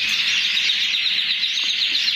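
Canaries in a breeding aviary fill the air with a dense, continuous high chirping and trilling, loud and close, with no voices over it.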